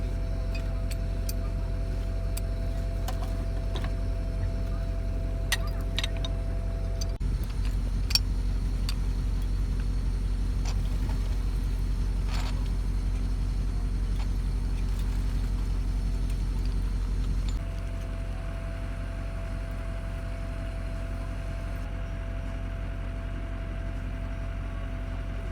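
Newly installed pump in a freshly drilled well casing on a farm, running as a steady loud low drone with faint ticking, its tone dropping slightly and settling partway through.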